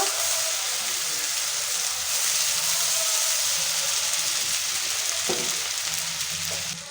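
Ginger paste and green chili paste fry in a pan for paneer butter masala, giving a steady, loud broadband sizzle with a few scraping stirs of a spoon, no voices.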